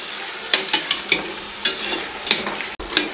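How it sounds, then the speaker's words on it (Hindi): Garam masala and tomatoes fry for a masala pulao, giving a loud, close sizzle broken by repeated spoon scrapes and knocks against the pot. "3 मिनट हम इसको मज़ीद भूनेंगे टमाटरों के साथ"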